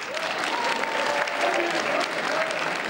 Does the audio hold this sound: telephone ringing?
no